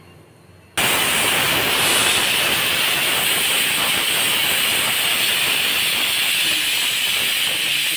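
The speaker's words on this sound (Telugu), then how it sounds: "స్టవ్ మీద పెట్టి 1 విజిల్ వచ్చేంత వరకు ఉడికించుకున్నాము గోంగూర." After a quiet start, a loud, continuous hiss of escaping steam bursts on and holds steady as a pressure cooker of gongura leaves vents its whistle.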